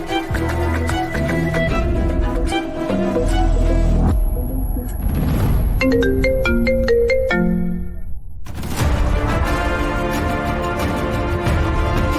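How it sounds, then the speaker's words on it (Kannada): A mobile phone ringtone for an incoming call plays a bright melodic tune of repeated tones in a TV drama scene, starting around four seconds and ringing for several seconds, loud and close over background score music, with no talking. "ಈ ಗೂಬೆ ವಿಶ್ವ ನನಗೆ ಫೋನ್ ಮಾಡ್ತಾ ಇದ್ದಾನೆ."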